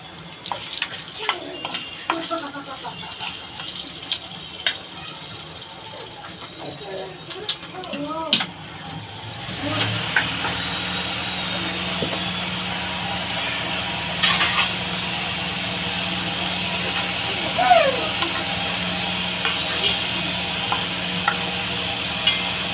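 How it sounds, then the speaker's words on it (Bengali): Dried red chillies and bay leaves drop into hot oil in a village-style Bengali kitchen. After a quieter stretch with clinks and a voice, a sudden steady sizzling hiss rises midway and keeps crackling to the end. "তেলটা গরম হয়ে গেছে, দিয়ে দেবো শুকনো লঙ্কা আর তেজপাতা।"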